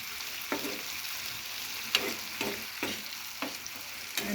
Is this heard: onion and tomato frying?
yes